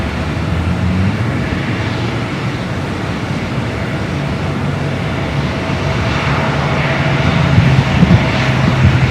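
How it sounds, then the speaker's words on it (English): An Air Canada Boeing 787-8 Dreamliner takes off at Los Angeles International Airport, its engines a loud, steady, broad roar that swells slightly toward the end, with no voices over it. "we got that Air Canada Minty Fresh 787-8 Dreamliner up next for takeoff"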